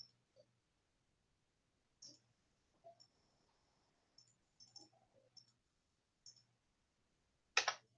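Computer mouse clicking, several faint isolated clicks spread over quiet room silence, with one sharper, louder click near the end.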